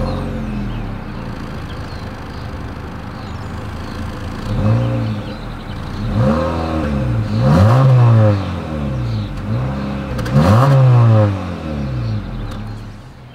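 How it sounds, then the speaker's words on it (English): A 2023 Honda Civic Sport exhaust idles and then rises through three sharp revs, each swelling and falling back, heard close and loud, with a brief exclaimed voice. "As always, here is that exhaust clip."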